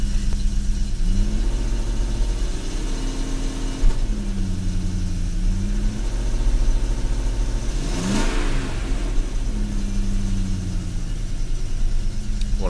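BMW 535i engine running very roughly with an unsteady idle that dips too low, a continuous close mechanical rumble with wavering engine tones and a brief surge partway through.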